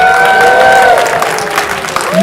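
A Toronto film-screening crowd cheers and applauds after being greeted, a dense wash of clapping with high whistles and whoops rising over it, loud and sustained for about two seconds.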